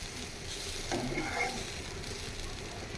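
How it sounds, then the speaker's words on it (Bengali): Thinly sliced raw onion frying in hot oil in a pan, giving a continuous soft sizzle with a brief stir partway through, close and fairly quiet. "কাঁচা পেঁয়াজ ঝুল করে কেটে রেখেছিলাম এটাও নরম করে ভাজতে হবে"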